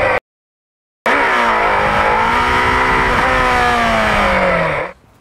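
Motorcycle engine revving hard as the clutch is released for a wheelie, a loud rising then steady whine after a short silent gap, fading out at the end.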